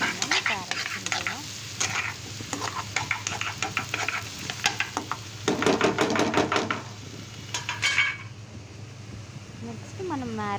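Carrots fry and get stirred in a pan for paneer carrot fried rice, with bursts of sizzle and clattering stirring strokes, louder around the middle, while someone talks over the cooking.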